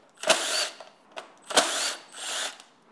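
A power driver fitted with a T30 Torx bit whirs in short bursts as it removes bolts from a motorcycle tail tidy, three close, loud buzzing runs with brief pauses between.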